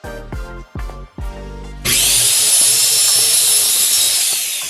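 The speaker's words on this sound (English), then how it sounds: "I'll be doing that by cutting out 10 inches of a 1/2 inch thick of poplar wood" A power tool cuts half-inch-thick poplar wood for a box brace. It starts with a few short, loud buzzing bursts, then settles into a long, steady, harsh cut close up.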